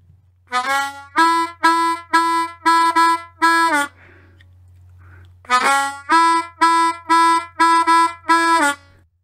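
A blues harmonica plays a rhythmic phrase from a song: short, reedy notes starting with a 1 draw to 2 blow and a run of 2 draws, about six, a brief pause, then seven more, loud and close.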